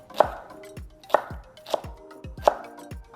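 A knife chops hot peppers on a board, four sharp, close knocks spaced about half a second to a second apart, with no talk.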